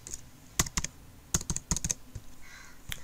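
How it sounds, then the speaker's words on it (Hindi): A password being typed on a computer keyboard: a few short clusters of crisp, close keystrokes separated by brief gaps, with a final tap at the end and no talking. "देन यहाँ पे आप अपना पासवर्ड लिख दो, मैंने पासवर्ड लिख दिया"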